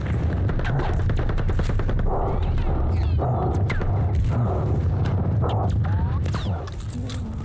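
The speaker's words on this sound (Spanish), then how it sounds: "En fin, Neil Patrick Harris recibió muchos tiros y no le pasó nada, debe ser inmortal." Gunfire in the World War II shooter game Call of Duty: Vanguard, with rapid bursts and scattered shots over constant loud battle noise and mechanical clatter, while someone talks over it.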